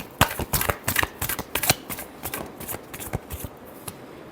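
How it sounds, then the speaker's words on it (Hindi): Tarot cards being shuffled up close, a quick run of crisp riffling and tapping bursts that thins out toward the end, with no talking. "last shuffle"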